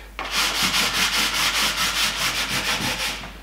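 Sandpaper rubbed by hand over a painted or varnished furniture piece in a light all-over sanding, giving steady rhythmic back-and-forth scratching strokes, close and alone.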